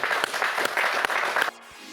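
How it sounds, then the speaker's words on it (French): Audience applause in a French TV news studio setting, dense clapping for about a second and a half before cutting off abruptly into near silence. "Je crois que ça mérite bien quelques applaudissements."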